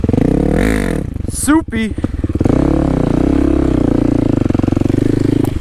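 A Kawasaki KLX300 dirt bike engine runs close and loud on a muddy trail, holding a steady throbbing note with a brief dip, while a rider talks over it.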